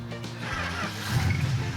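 A car engine idles nearby with a low, uneven rumble that wobbles and swells slightly.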